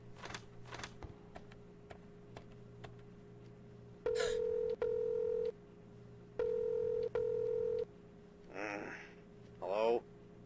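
Keypad tones of a phone dialing an emergency number in a horror video game: several short beeps, then two pairs of long, loud steady tones, followed by warbling electronic ring-like bursts.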